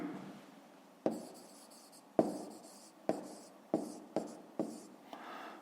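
A pen writes digits on paper, up close and quiet, with seven distinct tapping strokes spaced about a second apart, each followed by a soft scratching trail.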